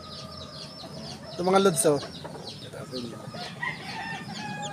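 Newborn pure Sweater raptor chicks cheeping and peeping in brief high calls, with a louder burst of chirps near the middle, under casual talk.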